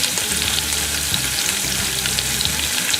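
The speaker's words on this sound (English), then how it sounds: "Just going to sear it on this side, and then I'm going to flip it over, sear it again." Beef roast searing in a Ninja Foodi pressure cooker, giving a steady, even sizzle that runs unbroken for a few seconds with no voices over it.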